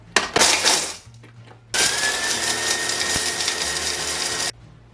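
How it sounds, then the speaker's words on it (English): A small electric spice grinder grinds chermoula spices into powder: a short whirring burst, a pause, then a longer steady high-pitched whine for about three seconds before cutting off, close and loud. "I'm using my little grinder here, and I'm going to just process them."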